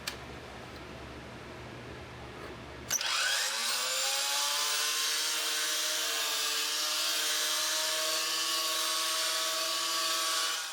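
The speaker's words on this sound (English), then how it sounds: "I'm going to do that on my miter saw" A miter saw spins up and cuts a 45-degree slot into a wooden disc glued to a square scrap board, a loud sustained whine with a rising start that holds steady through the cut.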